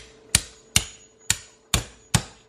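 A hammer chops through raw chicken for a stewed chicken dish, five sharp, loud, evenly spaced thuds, each with a short ringing decay.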